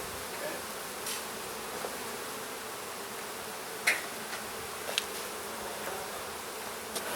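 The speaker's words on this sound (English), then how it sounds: "Look at the action in this hive; it's incredible." Honeybees in an open hive give off a steady, dense buzzing hum that fills the whole stretch, with a few brief sharper clicks and knocks near the middle and toward the end.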